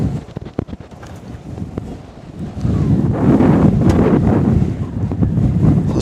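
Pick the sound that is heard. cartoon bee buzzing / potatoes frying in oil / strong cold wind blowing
strong cold wind blowing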